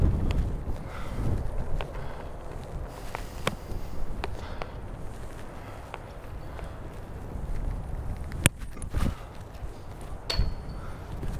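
Strong wind gusting across an outdoor Las Vegas disc golf course, a steady low buffeting rumble against the microphone with scattered sharp clicks and knocks throughout.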